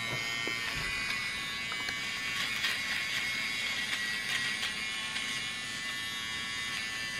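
A small electric nose hair trimmer buzzes continuously at close range, a steady high whine with slight changes in pitch as it moves.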